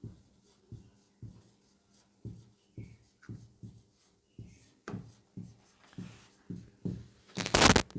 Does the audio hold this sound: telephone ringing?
no